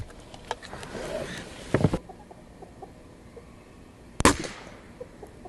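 Gamo Magnum GR .22 caliber spring-piston air rifle firing, with two sharp, loud cracks about two and a half seconds apart, the second standing alone in quiet outdoor air.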